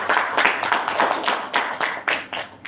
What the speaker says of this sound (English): A big round of applause for all of you this Sunday.